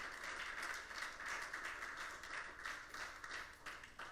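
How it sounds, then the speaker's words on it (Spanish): A church congregation applauds in a steady wash of clapping that holds at an even, moderate level throughout without a break. "Señores, denle un aplauso a Jesús."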